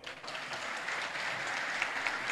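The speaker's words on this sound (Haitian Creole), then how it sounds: "battons bravo pour Issa Pavel" Faint, steady applause from an audience during a debate broadcast. It is a continuous patter of clapping with no voices over it.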